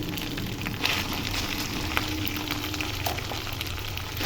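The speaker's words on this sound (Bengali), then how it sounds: "পেঁয়াজ বাটা ভেজে নিব তেলের মধ্যে," Onion paste frying in oil with ginger and garlic for a prawn dopiaza, giving a steady close crackling sizzle with a few soft clicks throughout, no voices.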